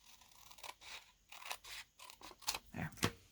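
Scissors snip through paper for a handmade junk journal, a faint close series of crisp irregular cuts and rustles, with no talking.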